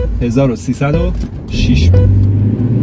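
A Saipa Tiba sedan carrying two people on regular petrol accelerates hard from a standstill, its engine note rising steadily beneath a voice speaking close by.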